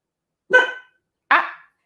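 A dog gives two short, sharp barks about a second apart, loud and close in an otherwise quiet room.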